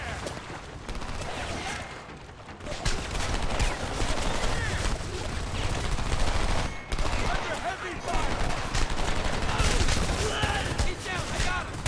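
Rapid, dense gunfire from the first-person shooter Homefront fills the scene: sustained bursts of automatic weapons and overlapping shots, loud and close, under a talking voice.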